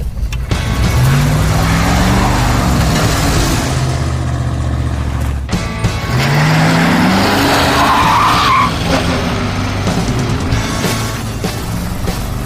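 A modified station wagon on 255/70-15 tires and Chrysler 15x7 wheels accelerates hard, with loud, close engine roar and two long bursts of tire squeal rising in pitch, separated by a brief gear change.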